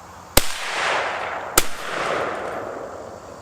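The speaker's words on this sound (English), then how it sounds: "First shot with the 22 Magnum and then follow up with a 410." Two sharp, loud gunshots about a second apart from a Chiappa Double Badger combination gun, the first from the .22 Magnum barrel, each crack followed by a short ringing echo outdoors at a 25-yard range.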